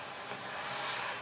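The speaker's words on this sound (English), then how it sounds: "This is the sound of paper." A short, soft rustle of paper: a steady, bright, airy hiss that swells gently and fades, heard alone and fairly quiet.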